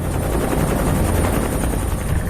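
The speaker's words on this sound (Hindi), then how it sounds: "बापू जी का हेलीकॉप्टर मोरबी से गोधरा आ रहा था," A helicopter's steady, loud rotor thumping and engine roar fill the whole stretch, close by and continuous.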